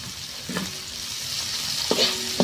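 Garlic and onion sauté in a pan for tuna sisig, a close, steady sizzle punctuated by two or three brief clinks of a utensil.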